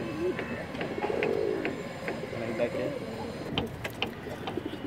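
A pigeon coos in a breeding loft, low soft repeated calls at moderate distance, mixed with someone talking and faint clicks and shuffling.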